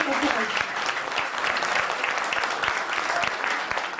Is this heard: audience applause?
yes